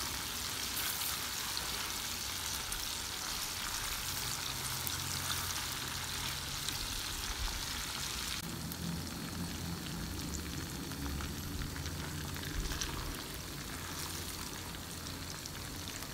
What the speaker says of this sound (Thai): ข้าวกับกระเทียมที่เราแยกไว้ลงไปทอด